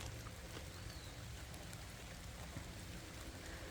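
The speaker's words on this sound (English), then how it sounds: "Oh, it's starting to rain." Dense, steady patter of rain starting to fall in a woodland garden in Missouri, a continuous soft hiss with scattered drops, no voices.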